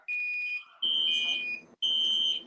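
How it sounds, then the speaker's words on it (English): A smoke-type fire alarm sounds in three loud, piercing, high-pitched electronic bursts, each lasting about half a second to a second, separated by short gaps and heard close up with no talking over it. "let's listen to the fire alarm"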